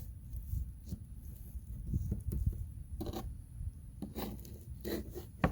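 A sharp knife slicing through tender barbecued pork ribs on a board, soft rubbing and scraping strokes with a few crisp cuts, close and moderately quiet.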